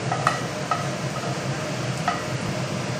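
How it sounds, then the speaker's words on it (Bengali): Dried red chili and nigella seeds frying in hot mustard oil, a steady close sizzle punctuated by a few light stirring clicks, without speech. "এবার গরম তেলে শুকনো লঙ্কার কালো জিরা ফোড়ন দিয়ে দিচ্ছি।"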